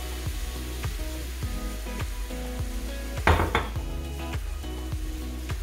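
Oil hisses in a hot clay tagine, its close sizzle heard under repeated metallic clinks and knocks of utensils against the cookware, with one sharper burst of crackling partway through.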